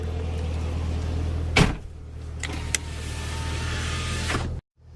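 A 2013 Chevrolet Camaro ZL1 convertible power-closes its top. A steady electric motor whirs close by with a latch clunk partway through, then cuts off abruptly near the end.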